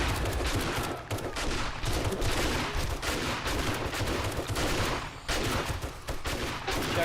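Sustained, dense gunfire from several players shooting a zombie in the survival game 7 Days to Die, loud and continuous with rapid overlapping shots and brief dips, no talk over it.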